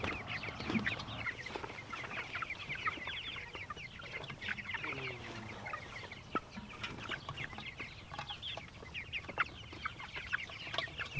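A flock of 53 meat chickens penned under a trampoline frame cluck and chatter continuously, fairly faint, with a steady busy murmur and occasional louder squawks, no talk.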